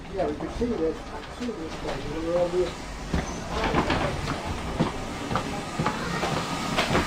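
An old urban multiple unit train carriage running at the Didcot GWR museum, giving a low, steady rumble and a rattling interior, with a voice talking over it early on.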